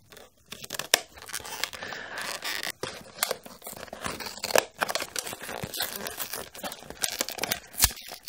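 Packaging of a monthly subscription crate being torn open by hand, with irregular ripping, crinkling and scraping bursts at close range, fairly quiet with short pauses between pulls.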